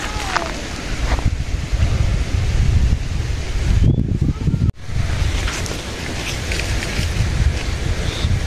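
Wind blows over an open village crop field, loud gusty rumbling buffets against the microphone, with a short break midway and no clear talk.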